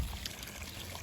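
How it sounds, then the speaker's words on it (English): Roasted ginger and pepper chicken broth is poured through a muslin cloth straight into a large saucepan, giving a soft, continuous trickling pour that stays fairly quiet and steady throughout. "pour that through a muslin cloth straight into a large saucepan"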